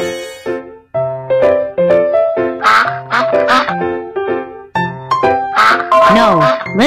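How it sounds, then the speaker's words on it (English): Cartoon duck quacks in a children's hearing test game, a quick series of loud, nasal quacks repeating in bursts over a musical background. "Duck."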